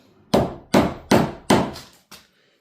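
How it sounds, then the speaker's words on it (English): A proper hammer strikes a 2-inch chisel while a butt hinge recess is cut by hand, giving four loud, evenly spaced close blows and a lighter fifth tap, then quiet. "Lovely 2-inch chisel, proper hammer, not one of these old claw hammers."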